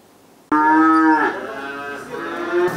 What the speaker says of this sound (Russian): Под громкое мычание проходит будни фермеров Сергея Журавлева и Федора Архипова.